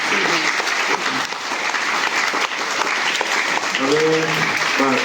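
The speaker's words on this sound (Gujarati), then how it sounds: "બંને મહેમાનોનો ખૂબ ખૂબ આભાર માનીએ છીએ અને જોરદાર તાળીઓથી એમને વધારી." Loud, sustained applause from an audience at a Gujarati event thanking two guests, steady dense clapping throughout with a brief spoken voice near the end.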